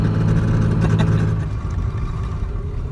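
A 12 valve Cummins diesel engine revs briefly as the throttle is stomped, a loud close rumble that swells then settles back toward idle.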